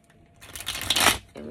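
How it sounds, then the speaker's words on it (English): A tarot card deck is shuffled in a short, close burst of riffling and rustling that swells and then fades within about a second. "gonna shuffle this deck"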